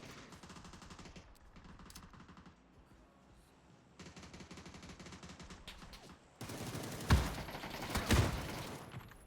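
Rapid bursts of automatic gunfire from an online shooter game, with sustained fusillades that grow louder and denser toward the end, punctuated by a couple of sharp heavy shots.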